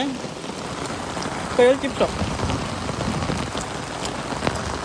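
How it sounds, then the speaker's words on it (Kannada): Steady rain patters across the ground during a mountain trek at Konaje Kallu, a continuous close wash of drops with a few brief voices speaking over it. "ಈ ಕಡೆ ಮಳೆ"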